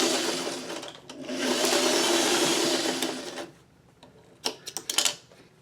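A sewing machine runs in one steady burst of stitching lasting about two and a half seconds while a fabric crumb project is sewn along a straight edge. A few short clicks and taps of handling follow, with no talk.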